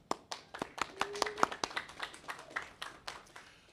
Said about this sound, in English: can I get a clap?